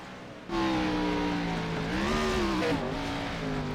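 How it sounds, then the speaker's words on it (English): A race car's engine drones loudly and steadily with shifting pitch as its wheels spin late in a sim racing league event at Watkins Glen, with a wavering tire squeal near the end and no voices. "can hear there the wheels spin,"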